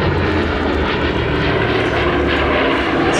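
A warbird aircraft with a sleeve-valve piston engine roars loud and close, a dense, steady engine drone with a propeller-driven rumble throughout and no voices.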